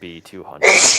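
A single loud, explosive sneeze bursts out at a public planning commission meeting, cutting off a man reading out stucco paint colours and lasting about half a second.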